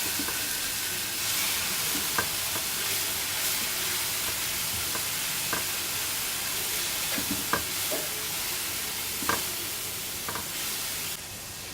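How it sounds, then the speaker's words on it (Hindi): Ginger and garlic sauté in two tablespoons of cooking oil in a pan, giving a steady, even sizzle with a few faint stirring clicks. No voices are heard. "इसको अच्छी तरह सौते कर लेंगे।"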